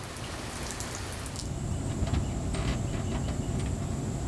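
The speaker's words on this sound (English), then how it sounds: "It's been a rainy and muggy day at the park." Steady rain falls on a trailer at a park, a dense close patter of drops on a hard surface with occasional sharper drips, even and continuous with no voices.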